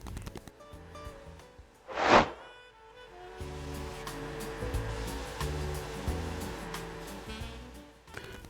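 Old fence pickets pressed against a belt sander: a brief louder swell, then a steady, close motor whir with a rough sanding hiss that runs to the end.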